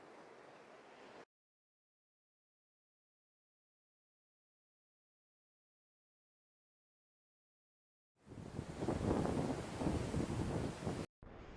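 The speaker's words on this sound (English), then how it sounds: "it is raining right now. The waves are crashing" Waves crash onto Laguna Beach in the rain, a brief rush of surf, then a long silent gap, then a loud roaring surge of breaking water with wind buffeting the microphone.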